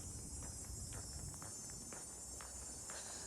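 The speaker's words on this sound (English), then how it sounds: "Your cicada. These are out all summer." A high, continuous buzz of summer cicadas fills the background along a sidewalk in Toronto's Riverdale neighbourhood, steady and droning, with faint rustling below.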